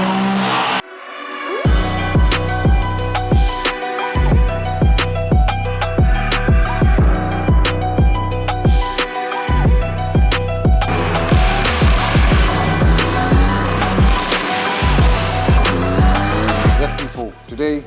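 A BMW M3 with a strange fault runs hard on a dyno, its engine loud and close, repeatedly revving up through rising sweeps and dropping off in sharp cuts, with a sustained high-rpm pull late on before easing.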